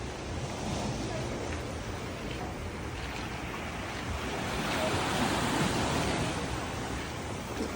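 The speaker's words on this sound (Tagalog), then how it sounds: "Oh, nasa tabing dagat tayo." Ocean waves at the seaside roll in as a steady, full broadband roar that swells slightly near the end, with no clear breaks and no talking.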